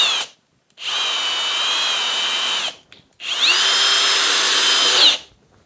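Kobalt 24V driver/drill driving screws into wood at the 20 torque setting, two bursts of steady high motor whine of about two seconds each, separated by brief silences and heard up close.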